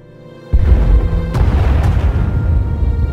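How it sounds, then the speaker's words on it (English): Bombing explosions from a Separatist attack in the video game Star Wars: The Old Republic: a sudden deep boom after a brief quiet, then sustained heavy rumbling and crackling blasts that stay loud and close. "Sounds like the bombing's getting closer."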